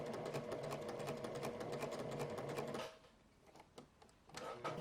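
A household sewing machine stitches fabric for a twirl skirt, a rapid even mechanical whir at close range that stops partway, followed by a few brief bursts of stitching.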